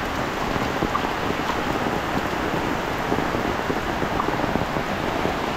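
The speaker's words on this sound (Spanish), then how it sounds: "Qué barbaridad de agua, gente. Es un río esto." Heavy rain pours down steadily in a torrential downpour, a dense continuous wash of water roaring and flowing like a river across a road, loud and unbroken with no talk.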